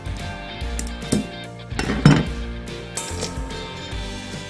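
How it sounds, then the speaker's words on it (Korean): Kitchen clatter of stone crabs bought at Soraepogu being cut into pieces after cleaning, with a few sharp knocks and clinks of shell and utensils against a hard surface, fairly close. "세척해가지고 뚜껑 담궈서 먹기 좋은 포기를 자를게요"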